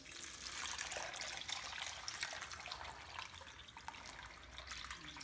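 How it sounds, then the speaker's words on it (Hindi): Cold water poured over blanched fresh green peas gives a steady, continuous splashing rush, fairly quiet and unbroken, with no voices over it. "अब इनके अंदर हम ठंडा पानी डाल देंगे।"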